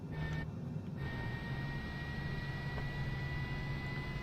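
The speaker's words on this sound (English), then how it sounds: "See the left engine coming up now." Left engine of a Cessna Citation CJ4 spooling up in Microsoft Flight Simulator, a steady jet whine with sustained high tones over a low rumble, continuous and fairly loud throughout with no talk.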